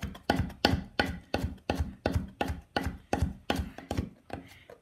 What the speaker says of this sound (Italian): con un coltello serio, ben affilato, iniziamo a tritare tutto